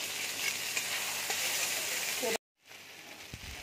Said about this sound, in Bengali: এবার আমি টমেটোটা দিয়ে দিচ্ছি।